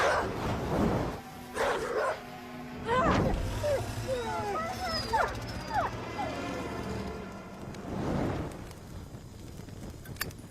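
A dog barks and whimpers in high, wavering whines in a horror-film scene, with people talking at the start and again near the end.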